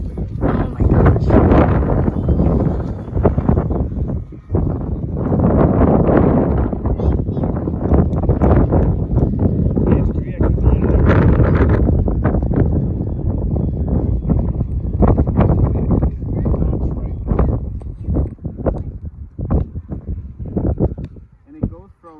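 Strong gusty wind buffeting the microphone outdoors while an E-flite P-51D Mustang 1.5m model plane flies, loud rumbling and thumping throughout, with people talking over it.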